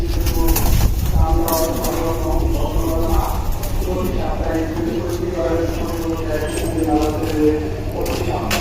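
A male Silver Line racing pigeon coos in repeated low throaty phrases inside a loft. The cooing is close and sits under steady nearby talking, with other birds rustling faintly.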